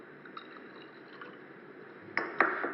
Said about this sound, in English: let's put some chlorine water into the potassium chloride